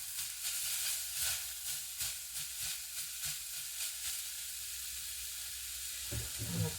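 Seafood sautéing in a pan, giving a steady, fairly quiet sizzling hiss with faint, regular stirring taps and a slight thump near the end.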